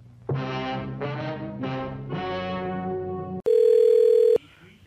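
Phone-line tones on a call to Amazon: three pulsed warbling tones in a row, then a single loud, steady beep of about one second.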